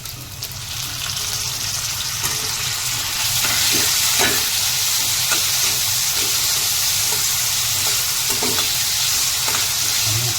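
Tomatoes hit a pan of sizzling cumin and fry with a loud, steady hiss, while a spoon scrapes and stirs in irregular strokes through the crackling.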